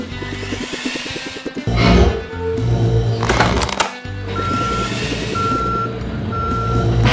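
A loader backing up in a garbage truck game, with steady reversing beeps repeating evenly over a rumbling engine, interrupted by loud clunks and crashes of trash dropping.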